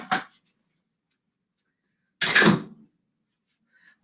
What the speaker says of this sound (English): I might have to sneeze.